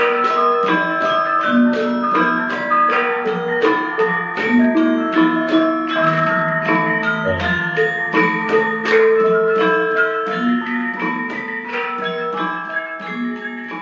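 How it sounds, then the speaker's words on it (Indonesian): A gambang (Indonesian traditional metallophone) and percussion ensemble playing together, bright struck tones layered over a steady low pulse, continuous and fairly loud throughout. "contoh ya dari memainkan instrumen secara bersama-sama yang disebut dengan gambang"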